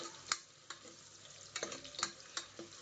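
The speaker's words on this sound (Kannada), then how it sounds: "ಈರುಳ್ಳಿ ಎಲ್ಲ ಚೆನ್ನಾಗಿ ಬ್ರೌನ್ ಆಗಲಿ." Onions frying on a high flame in a pan with light sizzling and a few sharp clicks of a utensil stirring, quiet and close with no talk.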